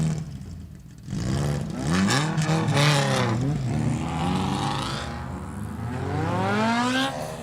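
2.1 modified race cars circle an oval dirt track, engines revving hard in overlapping waves, pitch sweeping up and down as the pack passes close and loud.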